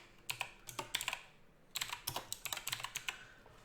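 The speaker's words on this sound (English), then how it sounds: "My keyboard's just very loud." Loud computer keyboard typing at a desk: two quick bursts of clattering keystrokes with a brief pause between them, close and crisp, with no talking.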